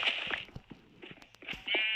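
Sheep in the video game Minecraft bleat several times in short, close calls spread across two seconds, mixed with game sound effects and no talking.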